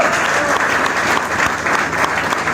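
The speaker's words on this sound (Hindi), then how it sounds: "अगर आप ताली बजा रहे ना तो जबरदस्ती बजाना, ठीक है, जबरदस्त ताली बजाना" Dense audience applause fills the hall, a continuous loud clatter of many hands clapping at once, steady throughout with no voices standing out.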